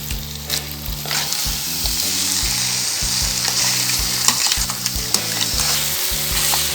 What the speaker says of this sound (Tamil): ஒரு பெரட்டிட்டு நம்ம கொஞ்சம் தண்ணி ஊற்றி வேக வச்சுக்கலாம்.